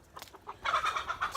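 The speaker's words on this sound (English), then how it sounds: "That chicken is looking for trouble." Chicken clucking on a wet homestead after rain, a few soft clucks building into a denser run of louder, near calls with short pauses between them, no talk.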